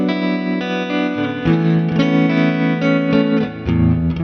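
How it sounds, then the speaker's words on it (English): Distorted electric guitar chords ring through a Mooer preamp with its modulation switch engaged for tremolo, strummed in a steady rhythm, loud and alone. "modulation switch, it brings in tremolo."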